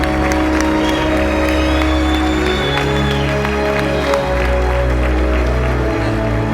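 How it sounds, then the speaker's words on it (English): Audience at the Ellis Island Medals of Honor ceremony applauds the medalists, steady loud clapping with crowd noise over a low musical hum, continuous throughout. "Let's have a round of applause for all of our medalists tonight."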